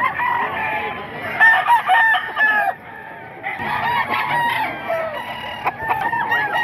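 Several pure SBR roosters at a market stall in the Bocaue tiangge crow loudly and close by, mixed with clucking from other fowl. The birds keep calling across the whole stretch with a short lull in the middle.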